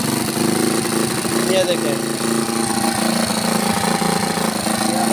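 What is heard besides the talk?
engine revving with a badly adjusted carburettor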